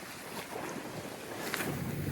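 Strong wind buffets a fishing boat during an overnight trip, producing a continuous rushing, roaring noise with gusts swelling briefly and no voices.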